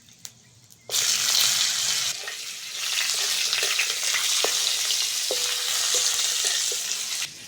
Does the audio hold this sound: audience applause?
no